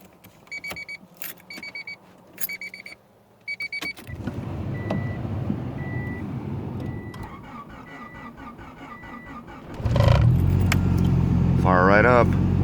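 A 1991 Honda Accord starts cold in deep snow at 12 degrees after sitting stuck for two days. Chiming beeps and key rattles come first, then the engine turns over and catches, settling into a loud, steady, close idle.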